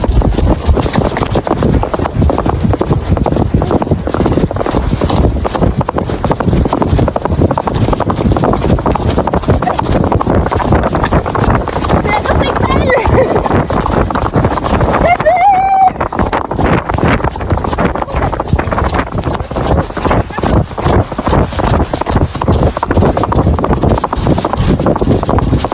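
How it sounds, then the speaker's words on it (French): A horse gallops on a ride with a fast, steady three-beat hoofbeat rhythm pounding close and loud throughout, buffeted by wind noise, with a brief voice cutting in midway. "elle voulait pas galoper devant. Galop."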